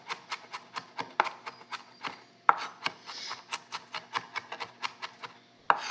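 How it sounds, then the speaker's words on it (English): A knife chops shallots finely on a cutting board, with quick, evenly spaced crisp taps that come in close, steady runs and include a few slightly harder knocks. "we're just gonna chop our shallots really finely"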